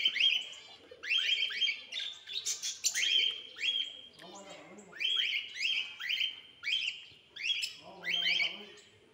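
Small birds, including sparrows and white-eyes, chirp and twitter in quick repeated bursts, several calls overlapping close by with brief gaps between phrases.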